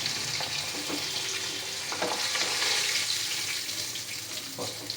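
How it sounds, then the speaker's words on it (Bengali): Hilsa fish pieces frying lightly in hot oil, giving a steady, close sizzling hiss throughout with a few faint clinks of a utensil. "কত সুন্দর করে হালকা হালকা ভাজা হয়ে যাচ্ছে, কাঁচা কাঁচা।"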